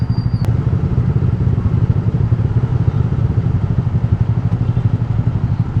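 Honda Click i125 scooter engine running steadily up close, a loud, continuous mid-pitched throb with a brief click near the start, held on the throttle because the engine stalls when released.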